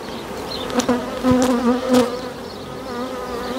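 A dense, steady buzzing of a large honeybee colony fills the clip, a close, continuous hum with a few louder swells as individual bees pass near.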